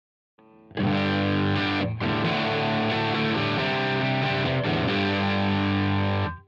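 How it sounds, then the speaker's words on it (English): Distorted electric guitar played through a Line 6 Powercab 112/212 amp, loud and sustained with dense chords and one short break, no voices. "We go to the distorted sound."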